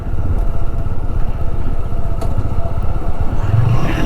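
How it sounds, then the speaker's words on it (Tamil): A motorcycle engine-brakes down a descending hairpin hill road from Coonoor to Mettupalayam, a loud, steady throbbing drone close up with wind rush throughout. "இன்ஜின் பிரேக் தான்."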